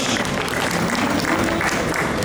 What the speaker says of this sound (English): round of applause for Laura